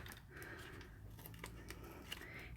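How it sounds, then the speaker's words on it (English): Scissors cut along an envelope seam in a quiet series of small snips and crisp paper rasps, faint and close, with light handling noise between cuts. "just enough to get my scissor blades in there. And just cut it right"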